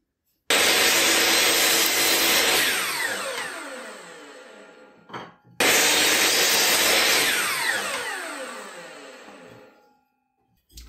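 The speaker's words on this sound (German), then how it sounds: "Ich schneide das mal, dann schauen wir, wie die Gärung passt." A power saw cutting miters in wooden strips in a workshop: two long whining cuts, each starting abruptly at full loudness and slowly winding down, separated by a brief pause, close and loud with no talk.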